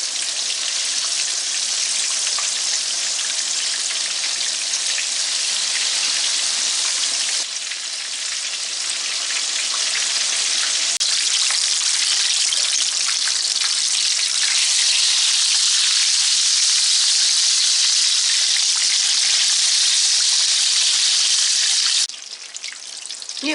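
Spicy Lahori-style fish fillets sizzle and crackle steadily in hot oil, a loud, dense, continuous frying hiss that holds for over twenty seconds with slight shifts as the pieces are moved.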